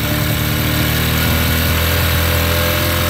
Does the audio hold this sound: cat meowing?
no